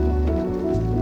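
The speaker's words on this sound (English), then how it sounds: "rain continues" Steady rain on a mountain trail, a dense continuous wash of patter with a low rumbling undertone, close and unbroken throughout.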